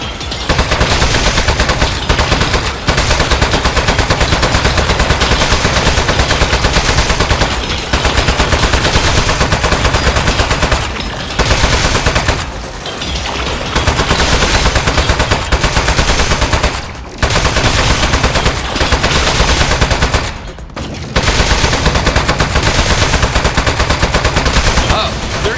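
Sustained rapid automatic gunfire from turrets in the video game Aperture Desk Job, loud and dense throughout with only brief gaps between long bursts.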